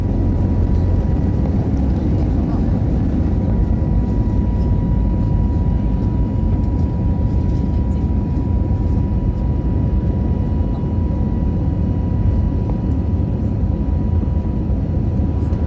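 A passenger jet departing on a flight to China, heard as a loud, steady engine roar that fills the whole stretch without a break.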